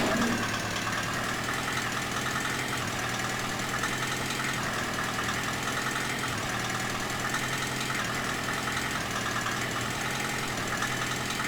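A giant snow-clearing machine's heavy engine drones steadily and loud, a constant low rumble with no pauses or changes throughout.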